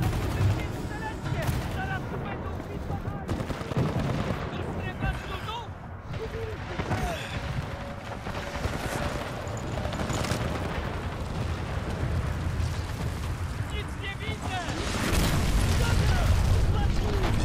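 Dense, loud video-game combat from Titanfall 2, with rapid gunfire and booming explosions layered continuously over one another. Someone talks over the din throughout.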